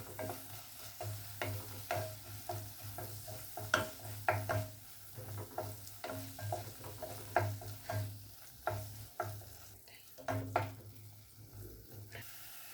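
Spice powders, turmeric, chilli and fenugreek, stirred and fried in a pan with a soft steady sizzle and repeated scraping strokes of a spoon, close and alone without talk.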